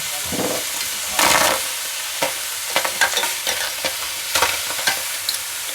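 Onion halves, tomato halves and garlic cloves fry in a pan with a steady sizzle, broken by brief scraping stirs and a few sharp utensil clicks against the metal.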